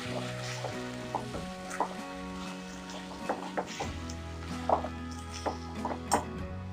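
Boiled peas stirred into a sizzling potato samosa filling in a home kitchen pan: a continuous frying hiss with frequent sharp scrapes and knocks of the spoon against the pan, close and steady, without speech.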